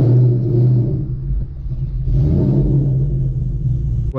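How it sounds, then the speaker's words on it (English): Ford Mustang engine revving loudly inside a garage, two swelling roars with a deep rumble between them, close and echoing. "I gotta do little tricks like that, man, to make my car sound loud again."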